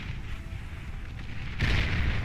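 In Beyond All Reason, friendly fire destroys a metal extractor: muffled battle rumble gives way to a sudden loud explosion burst near the end that stays roaring through the close.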